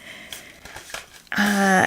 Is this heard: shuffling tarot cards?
yes